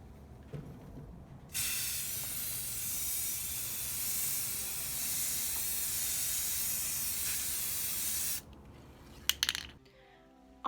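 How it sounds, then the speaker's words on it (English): Clear gloss spray paint hisses from an aerosol can onto die-cut stickers in one steady, close burst of about seven seconds, with a few faint clicks and handling noises after it stops. "and I'm gonna spray paint."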